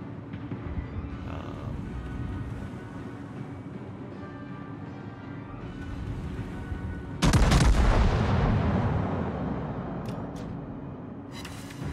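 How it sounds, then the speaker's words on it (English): Ship guns fire a salvo in the World of Warships video game, a sudden loud booming blast that follows a low ambient hum and then fades into rumbling echoes. "guns, give me guns"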